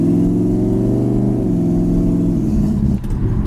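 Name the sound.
V8 car engine with worn mufflers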